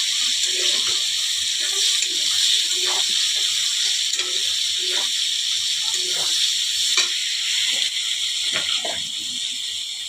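Chopped onion frying in a pan, a steady bright sizzle and hiss running throughout at moderate level, with faint intermittent voice and kitchen sounds beneath.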